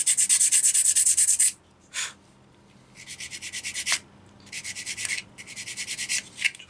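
Sandpaper rubs over a small plastic engine part for a 1/35 scale Model T 1917 ambulance kit, close and high-pitched, in quick back-and-forth bursts separated by short pauses.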